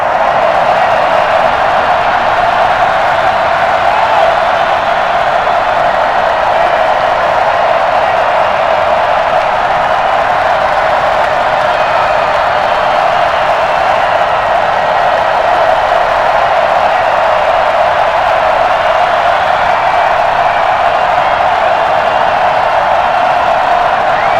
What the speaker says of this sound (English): a moment ago they entered to the delight of this sold-out crowd